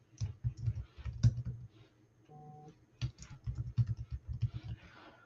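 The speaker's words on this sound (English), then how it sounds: "And I'm going to type my name." Someone types a name on a computer keyboard, tapping out two bursts of quick, close keystrokes separated by a short pause with a faint tone.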